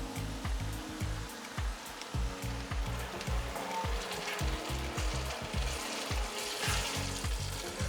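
Fresh tomato puree hits onions frying in a pan, producing a strong, continuous hiss and sizzle with rhythmic stirring scrapes throughout, close and without speech.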